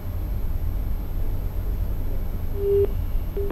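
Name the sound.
phone line tone after a caller's call drops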